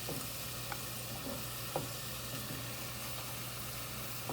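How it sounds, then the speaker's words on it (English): Celery being stirred in a pot for broccoli cheese soup, a low steady sizzle and hum with a few faint scrapes of the spoon, no talking. "let's just give that a stir a minute"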